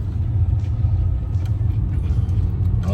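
A warmed-up BMW E28 car engine idles steadily with a low, even rumble, close by and continuous, with faint clicks above it.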